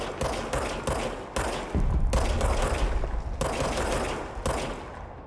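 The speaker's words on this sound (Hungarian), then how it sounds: "Szolgálati fegyver lövése." Rapid automatic gunfire from the service weapon in the Control video game rattles in dense, loud bursts with brief gaps, heavy and continuous.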